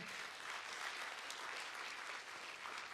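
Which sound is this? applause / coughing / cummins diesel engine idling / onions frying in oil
applause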